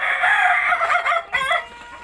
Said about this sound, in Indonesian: Suara-suara kokok ayam